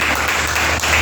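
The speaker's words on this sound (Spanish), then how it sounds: "Démosle un aplauso al Señor que le bendiga." A church congregation applauds together after a sermon, a dense steady wash of clapping that fills the whole short moment at moderate loudness, with no speech over it.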